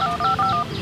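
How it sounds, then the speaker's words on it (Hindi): A phone number dialed on a handset, a rapid run of about five clear two-note keypad tones in close succession, each short and even, with no talking. "एक बार नंबर आप डायल कर दो अंकल जी।"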